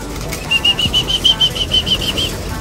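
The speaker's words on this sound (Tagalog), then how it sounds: "para papuntahin muna natin dito yung mga kalapati ko" Pigeons flap their wings as they fly in, giving a rapid series of soft, rhythmic wingbeat pulses close by that last for about two seconds, with no talking over them.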